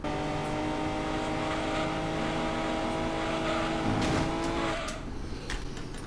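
A TVR Griffith convertible in the racing video game Gran Turismo 2, its engine holding a steady, loud, buzzing drone through the run, then dropping in pitch near the end, with no talk.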